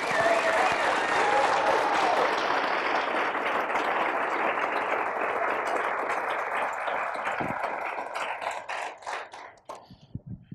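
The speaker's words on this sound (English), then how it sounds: "may I call for one more round of applause for our 5 finalists" A college speech showcase audience claps for the five finalists, dense sustained applause that carries for about eight seconds before thinning into scattered claps and fading out.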